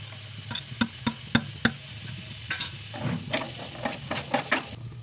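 Onion, green chili, curry leaves, garlic and ginger sautéing in hot oil, a soft sizzle punctuated by a rhythmic series of sharp spoon clicks against the pan, close and without talk.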